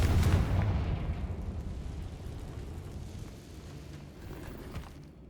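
Confringo fire spell blasting in Hogwarts Legacy, a loud explosive burst at the start that decays into a long rumbling roar and crackle, with no talking.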